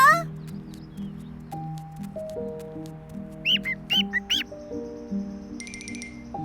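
Chirping and tweeting of a bird in an animated children's cartoon, short bright calls over a soft musical background with a few tones, fairly faint.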